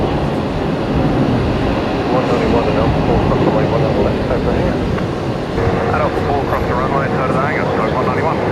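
Heavy jet airliner passing at Brisbane Airport at night, a loud broad continuous roar that holds steady throughout, with voices talking over it.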